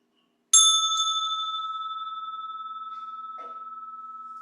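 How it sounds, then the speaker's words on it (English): A single strike of a hand bell used in a devotional setting, a bright, clear ring that sustains with a slowly fading, pulsing tone in a quiet room, with a faint soft sound partway through. "I'll ring this bell"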